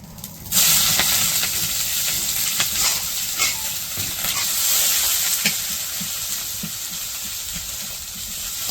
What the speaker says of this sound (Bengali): পেঁয়াজগুলো একটু ভালো করে ভাজে নিই